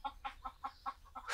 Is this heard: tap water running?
no